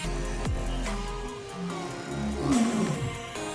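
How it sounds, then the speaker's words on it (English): An elephant calls with deep, rough rumbling roars that rise and fall, ending in a louder, higher trumpeting sweep, heard close and alone with no talking. "Elephant."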